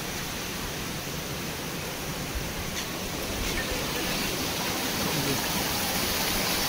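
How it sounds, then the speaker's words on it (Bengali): Water from a hillside waterfall in Purulia streams down beneath rocks, making a continuous, even rushing roar that fills the whole stretch without a break. "আজকে ঝর্ণার প্রস্থানটা এখান দিয়ে পাথরের তলা দিয়ে নেমে গেছে।"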